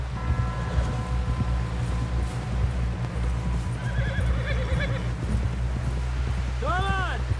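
Horse neighs and whinnies with clip-clopping hooves in the Western open-world game Red Dead Redemption 2, the whinny rising clearly near the end over steady hoofbeats, rumbling low ambience and a voice.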